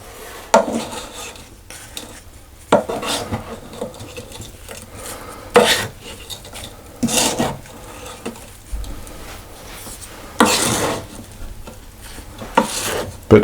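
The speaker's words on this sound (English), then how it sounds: "I'm going to give them a bit of a stir" Homemade mincemeat ingredients, including suet, apple and sugar, are stirred in a pot: intermittent scraping and clinking strokes with short pauses between them, close and fairly loud, with no talk.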